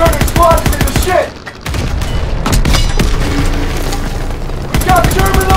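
Tank cannon fire and explosions in Call of Duty WW2 during a Panzer attack, with heavy booms and rapid gunfire bursts, loud and close, dipping briefly before continuing under shouted voices.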